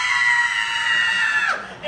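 A girl screams for a camera in one sustained, loud, high-pitched shriek lasting about a second and a half before breaking off abruptly.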